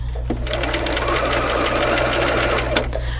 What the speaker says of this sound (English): Now I sew to that slit.